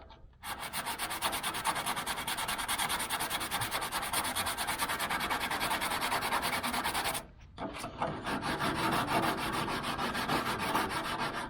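Body filler on a 1972 Chevy Nova is sanded flush with 180-grit paper, a steady, close, loud rasping scrub that stops briefly midway and then resumes.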